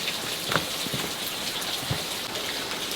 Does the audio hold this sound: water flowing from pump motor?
no